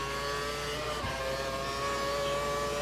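A Formula 1 race car engine from the F1 2012 game at Melbourne qualifying holds a steady high-pitched whine at full throttle with DRS open, loud and continuous throughout.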